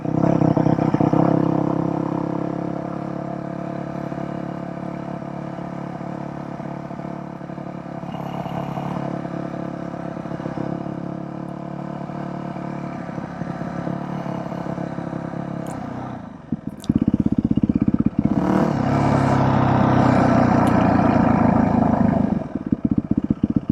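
A converted Yamaha WR450F dirt bike rides on a street in second gear, its engine droning steadily up close, with a louder revving surge near the end.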